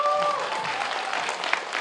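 A church parish audience applauds at a celebration of a nun's perpetual vows, a steady dense wash of clapping that fills the whole stretch at close range, with a brief whistle-like tone near the start.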